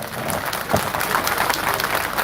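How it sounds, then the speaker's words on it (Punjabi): An audience at a Punjabi religious fair (mela) claps for a singer's performance, a dense, steady wash of applause from a crowd, fairly close and continuous. "ਸਾਡੇ ਨਾਂ ਤੇ ਵੀ ਤਾੜੀ ਮਾਰ ਕੇ ਅਸ਼ੀਰਵਾਦ ਦੇ ਦਿਓ"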